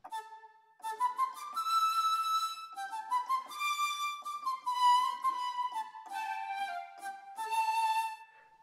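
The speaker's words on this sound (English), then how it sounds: "This is the sound of the flutes." A sampled orchestral flute from BBC Orchestra plays a smooth legato melodic line, clear breathy notes gliding from one pitch to the next in a continuous phrase, solo and close.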